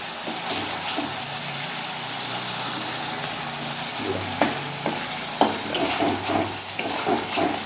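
Curry leaves, whole spices and green chilies fry in hot mustard oil with a steady close sizzle, while a spoon stirs and scrapes the pan in sharp irregular clinks that grow more frequent toward the end.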